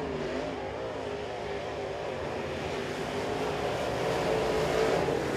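A Sportsman race car runs a qualifying lap at Crossville Speedway, its engine droning steadily at a distance and swelling slightly louder toward the end. No voices are heard over it.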